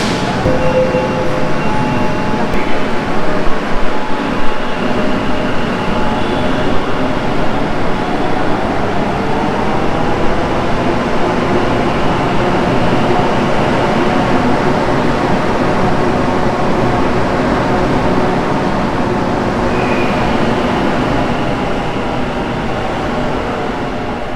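A steady, loud rumble of a Kolkata metro train in motion at Sealdah, with a constant low roar and faint high whine throughout, no voices.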